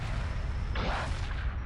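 A destroyer-class spaceship blows up in a Homeworld Remastered space battle, a single muffled boom swelling mid-clip over a dense rumble of ongoing combat noise.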